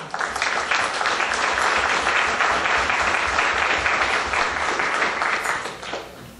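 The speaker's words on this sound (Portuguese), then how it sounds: "Aplausos realmente merecidos." Dense, loud applause fills a formal patriotic ceremony at a Brazilian estate house, held for an official table of dignitaries. The many hands clap steadily and evenly for about six seconds, then fade out at the end.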